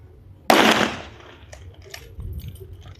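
A single sharp, loud bolt action rifle shot outdoors at an Armed Forces Day event at a war museum, followed by a fading echo and faint metallic handling noises.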